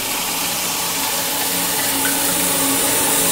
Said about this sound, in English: the whole tank is emptied